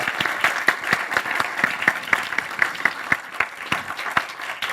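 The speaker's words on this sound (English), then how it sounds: "a huger round of applause for Judith" Steady audience applause after a talk, with dense clapping sustained at even strength through the whole stretch and a few sharper individual claps standing out.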